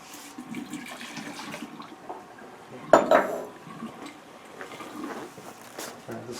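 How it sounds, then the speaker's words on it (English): Water dumped into a sink in a lab after heating a metal sample, a brief splashing clatter in the middle with metallic clinks, set against faint room noise and soft background activity. "Dump the water in the sink."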